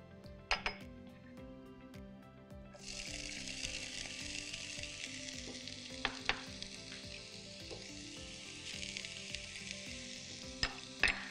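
Garlic and onion sautéing in oil for a minced-meat bolognese, a loud bright sizzle that swells up and holds steady, with scattered clinks of a spoon against the pan and no talk.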